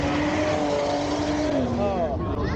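Purple Plymouth Barracuda drag racing at a Florida drag strip, a loud sustained engine roar with rising and falling pitch as it runs down the track, steady and dominant throughout.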